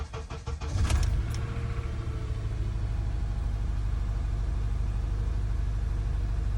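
An Acura TSX engine cranking and catching, then settling into a steady idle with a low rhythmic throb, heard close and alone while the car has a cylinder three misfire.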